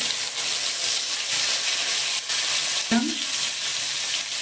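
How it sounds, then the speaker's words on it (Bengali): Onions frying in a pan with green chilies and salt, a loud, steady sizzling hiss that runs throughout, broken by one short clunk near the end. "পেঁয়াজটা আমি একটু ভেজে নিই"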